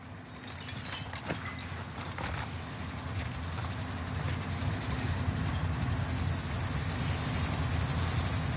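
A moving train in the video game Warzone rumbles and clatters steadily, with a low rolling drone and rhythmic rail clicks growing gradually louder over several seconds.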